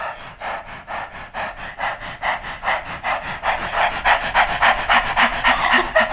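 A singing-lesson breathing exercise of rapid, rhythmic panting breaths, about three per second, close to the mic and growing louder, with no talking.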